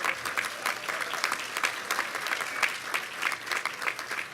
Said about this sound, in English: you can give her a really long applause